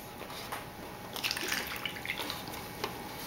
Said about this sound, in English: Dump this water out.